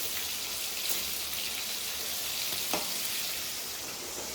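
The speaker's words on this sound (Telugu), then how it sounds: "పసుపు వేసుకొని వేయించుకోవాలి" Salted fish fries with turmeric in a pan, giving a continuous, even sizzle with a faint crackle now and then and no voices over it.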